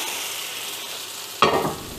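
A steady hiss, then a sudden loud sizzle as sourdough whole-grain pancake batter hits a hot frying pan, settling into a softer crackle.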